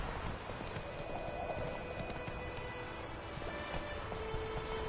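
Horse hooves clip-clop steadily in The Witcher 3 video game, a continuous close rhythm of hoofbeats over an outdoor ambient bed with faint rustling.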